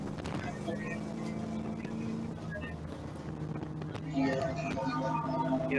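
Race car engine idling roughly and unevenly in the pits at an endurance race at Sebring while mechanics work on it with the coil cover off, a steady loud drone with harmonic tones beneath outdoor commentary.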